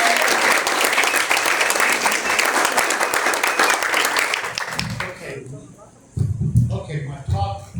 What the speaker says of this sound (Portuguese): Uma salva de palmas para o professor Jorge.